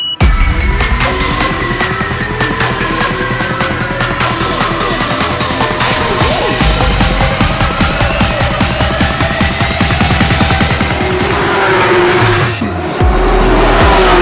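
Supercars including Lotus, Aston Martin, Lamborghini Performantes and McLarens lapping a track day in Dubai, engines roaring loud and continuous with rising and falling revs, tire squeal and skidding, cars passing close.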